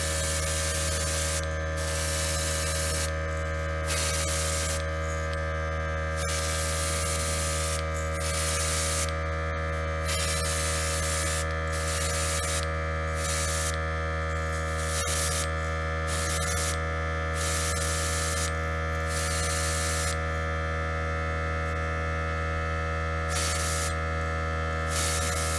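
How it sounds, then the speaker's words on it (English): An airbrush air compressor hums steadily on its own throughout, a constant mechanical drone with a pulsing edge, at moderate level with no talking. "There's that infamous timing of the compressor. Always comes on when I start the video."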